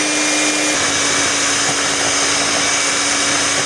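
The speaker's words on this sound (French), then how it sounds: "je vais fouetter ma crème" An electric whisk beats homemade face cream with a loud, steady motor whine and whir that runs without pause.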